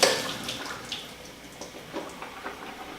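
Hot water from boiled carrots poured into a strainer, a brief splashy gush at the start that fades into light trickling and a few scattered drips and taps, close and fairly quiet.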